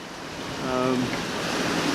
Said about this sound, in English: Wind's not too bad. We've got 17 knots apparent